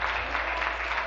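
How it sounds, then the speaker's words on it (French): Steady applause fills a legislative chamber during question period, a dense, continuous clapping wash with no break, heard close and loud throughout. "vous voudrez peut-être arrêter d'applaudir"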